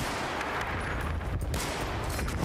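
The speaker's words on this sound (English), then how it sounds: "I'm gonna return some fire." Gunfire in the video game Battlefield Bad Company 2 Vietnam, with a dense continuous wash of automatic shots and blasts that stays loud and steady throughout, with no clear speech.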